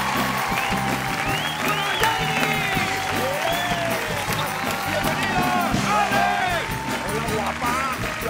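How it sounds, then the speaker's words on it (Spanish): A TV studio audience breaks into lively, continuous applause, with excited voices and cheers mixed in throughout. "Venga el aplauso para Jamie Sasson y Alejandra Rivera"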